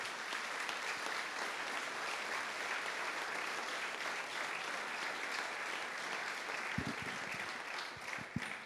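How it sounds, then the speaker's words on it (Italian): Theatre audience applause at a brass military band concert, broad sustained clapping from a large hall crowd, fairly distant and even, with a few low thumps near the end. "un bel applauso anche a loro"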